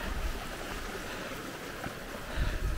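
A small stream trickles steadily along a hiking trail in the Lairig Ghru, a soft continuous wash of flowing water heard close, with a couple of slightly louder splashes near the end and no talk.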